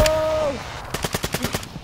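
Rapid video game gunfire, a burst of about a dozen sharp close shots in quick rhythm, preceded by a brief electronic tone and voices at the start.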